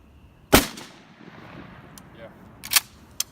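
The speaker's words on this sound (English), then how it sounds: "the Federal 3-inch number 5 shot" Shotgun firing Federal 3-inch number 5 turkey shot at a 40-yard target outdoors: one loud, close blast with a rolling echo, then a second sharp report and a faint click, with voices nearby.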